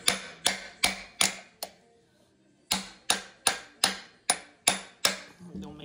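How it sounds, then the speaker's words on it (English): Hammer blows on a part of a Stihl MS170 chainsaw: five sharp metallic strikes in a steady rhythm, a short pause, then six more evenly spaced close-up blows, each ringing briefly. "Don't make fun of my hammering method."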